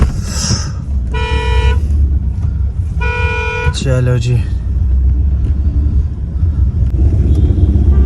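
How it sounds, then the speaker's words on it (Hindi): Busy road traffic at Kangan market, with repeated loud car horn toots and a steady engine rumble nearby, while someone speaks briefly over it. "यहाँ से हमारे घर के लिए गाड़ी निकलती है, सोमो, बस, लटरम शटरम सब कुछ यहीं से निकलता है।"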